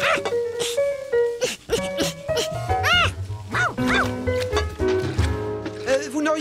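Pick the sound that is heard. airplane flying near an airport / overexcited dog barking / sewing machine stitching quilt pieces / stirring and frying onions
overexcited dog barking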